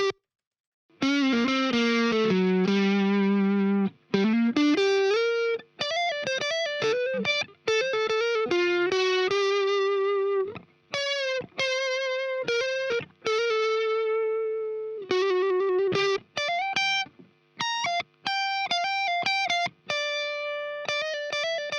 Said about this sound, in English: So let's take a listen to what the saturator's doing.